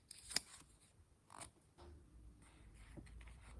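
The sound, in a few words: cutting out a paper kangaroo for a pop-up book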